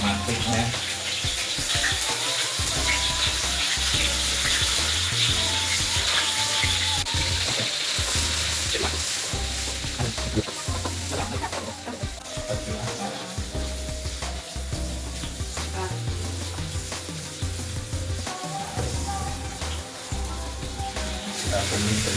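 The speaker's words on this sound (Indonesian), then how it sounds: "pertama kita mulai kita tumis dulu ini bahan-bahan pengharumnya" Aromatic spices sautéing in a pan, a continuous loud sizzle with stirring and clatter running throughout while a person talks over it.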